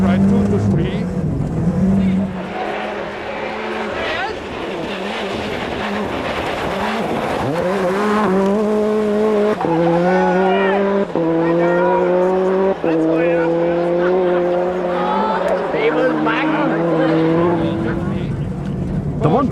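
Onboard a red Ford Escort rally car on a forest stage at the 1998 Toshiba Rally, the engine revs rise and fall through gear changes and loud sustained pulls, with a co-driver's voice calling pace notes over it.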